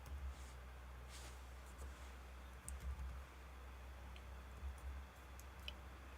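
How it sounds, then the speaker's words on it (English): One-handed typing on a computer keyboard gives quiet, sparse ticking key clicks over a low steady hum, with no voices. "I'm typing with one hand."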